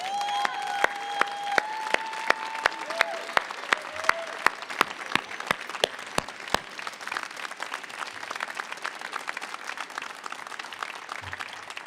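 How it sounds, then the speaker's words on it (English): Doctoral graduates at a December commencement ceremony applaud loudly for about twelve seconds, a dense crowd of claps with sharp individual hand slaps on top, a few cheers, and some sung or whooped tones near the start. "give them a big round of applause"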